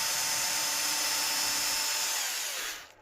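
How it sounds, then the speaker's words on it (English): A small drill bit opens up a hole in a solder pad while upgrading parts in a Lucid 405. It makes a steady, close, high-pitched whine for almost three seconds, then winds down and stops. "I have to open it up with a small drill bit"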